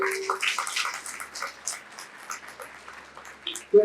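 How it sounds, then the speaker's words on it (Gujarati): Audience applause at a UPSC/GPSC career counselling education program, a broad wash of clapping from a large crowd that fades gradually over a few seconds before a short louder burst at the end. "તો એક જોરદાર તાળીઓ થઈએ તમારા માટે"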